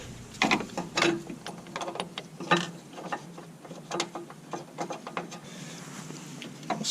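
A ratchet clicks in quick bursts while tightening the battery hold-down in a 2010-2015 Chevrolet Camaro, close and crisp with short pauses between strokes, no talking.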